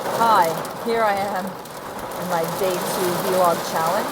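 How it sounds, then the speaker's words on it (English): Heavy rain drums steadily on the roof and windows of a car, a continuous broadband patter heard from inside the cabin, running under a person talking throughout. "you can probably hear that it's literally raining cats and dogs outside"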